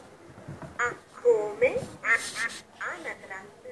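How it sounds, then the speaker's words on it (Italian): A duck quacks in a run of loud, close, nasal calls with short pauses between them, no other sound competing. "Ah, anatra."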